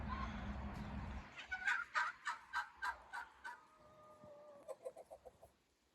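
Chickens calling in a rapid rhythmic run of loud, pulsing clucks and gobbling notes, close by, with a second burst near the end.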